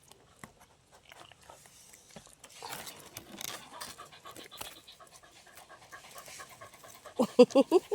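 A dog pants with a rapid, rhythmic breathing pattern, moderately close, with some chewing or crunching noises; louder bursts of panting come near the end.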